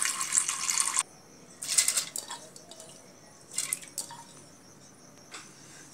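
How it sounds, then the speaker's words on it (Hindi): Water pours into a pressure cooker holding dal in a home kitchen, in three close splashing bursts of about a second each, separated by short quiet gaps. "अब हम प्रेशर कुकर में 4 कप पानी डालेंगे"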